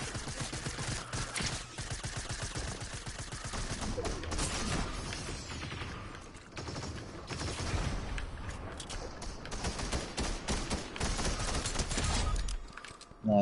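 Video game gunfire crackles in dense, rapid bursts through most of the stretch, loud and close, with occasional mechanical clicks and faint talk mixed in.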